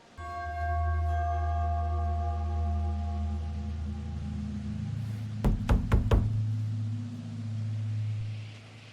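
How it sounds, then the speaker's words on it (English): Knocking on a door in a horror video game: four sharp, closely spaced knocks over a droning, tonal musical ambience. "So, do we just knock or..."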